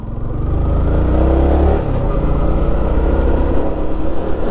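Loud, continuous engine note from a 2024 Yamaha MT15 motorcycle, pure black, as it is ridden along the road, rising briefly then easing into a steady drone with wind noise.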